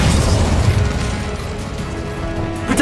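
An Incendio fire spell cast in the video game Hogwarts Legacy gives a dense, steady rush of flame with low booming pops, loud and close throughout.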